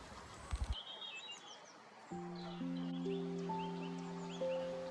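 A nuthatch calls in woodland with a few thin, high chirps and tweets, faint and fairly distant. After the first couple of seconds, steady sustained musical tones play underneath.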